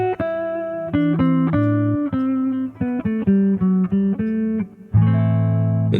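Ambient guitar improvising in the Dorian minor mode, a steady run of clean sustained notes and chord tones ringing close and loud, alone without any talk.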